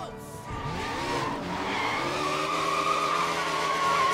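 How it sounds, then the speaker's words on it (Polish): Motorbike tires squealing and burning rubber in the Sleeping Dogs video game, a sustained screech with a rising, wavering whine over a steady engine roar, loud and continuous throughout. "Spójrzcie na to, ale pali gumy."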